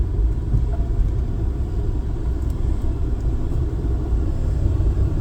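A 2010 Nissan Cube in poor condition drives around the block, its engine a steady low rumble heard from inside the car, continuous and fairly loud with no talk.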